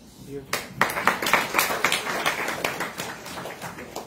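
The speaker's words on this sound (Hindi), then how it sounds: "बार बार मैं ताली इसलिए बजा रहा हूँ ताकि आप सो ना जाए।" A spiritual teacher at a satsang claps his hands repeatedly in a quick, uneven rhythm, close and fairly loud, with a room feel around the claps.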